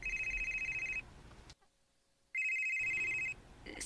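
A telephone rings in two bursts of bright, warbling trills, each about a second long, separated by a pause of near silence, close and loud with no talking.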